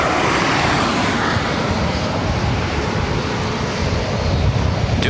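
Delta jet aircraft at Los Angeles International Airport produce a steady, loud engine roar that fills the whole stretch with continuous broadband rumble, with no talk over it.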